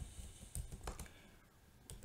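Fingers tap a computer keyboard in a quiet room, giving a few soft, irregular key clicks that are faint and close with no talking.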